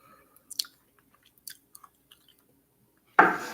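Cooked eggplant with chewy skin being chewed, soft wet chewing sounds in brief clusters with quiet gaps, close up and alone, ending in a sudden louder burst of noise.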